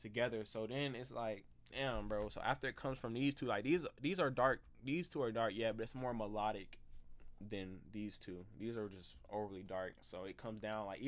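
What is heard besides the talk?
No everyday noise stands out behind the speech.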